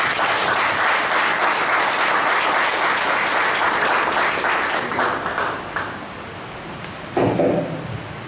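An audience applauds to welcome a speaker, with dense, loud clapping that fills most of the clip before thinning out and ending near the close.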